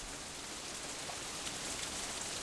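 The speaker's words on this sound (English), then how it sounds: "I can barely make out Lily's voice over the deafening pounding of the rain" Heavy rain pounds down in a steady, dense wash of noise from the visual novel Katawa Shoujo, loud and unbroken throughout with no voices.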